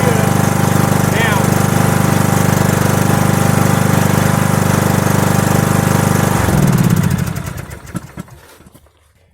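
A car engine runs steadily after a jump start from a VTOMAN X3 jump starter, a loud close rumbling idle that cuts off abruptly and rattles down to silence; a voice briefly speaks near the end.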